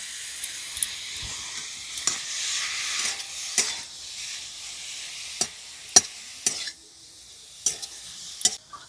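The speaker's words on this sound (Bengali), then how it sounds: "লাউটা ভাজতে ভাজতে আমি এখানে ফ্রাইং প্যানটা তৈরি করে নিয়েছি।" Bottle gourd frying in ghee with a constant soft sizzle, broken by repeated sharp scrapes and clinks of a spatula stirring the pan.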